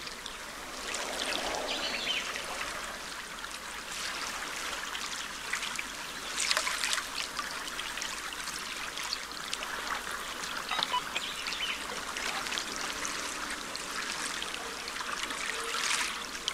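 Gentle flowing water trickles steadily in a Planet Zoo park scene, a soft continuous stream with faint chirps scattered over it, no speech.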